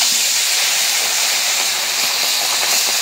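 Katla fish pieces fried in hot oil, with a loud, continuous hissing sizzle and fine crackling, close and steady throughout.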